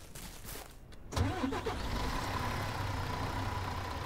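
A vehicle engine in the Ranch Simulator game cranks and catches after a brief quiet stretch, then settles into a steady mid-pitched running drone, heard alone without talk.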